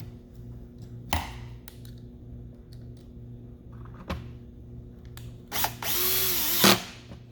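A power drill drives screws back into a plastic aquarium powerhead, with short whirring bursts and clicks separated by pauses, ending in one longer, louder run of the motor close by.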